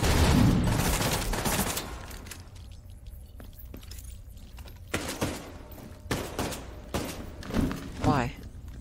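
Pistol gunfire in The Division 2, a loud burst of shots at the start, then quieter scattered reports, thuds and a shattering crack over the following seconds, with a voice speaking briefly near the end.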